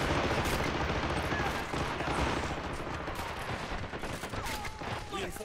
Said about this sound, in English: Machine guns got us covered.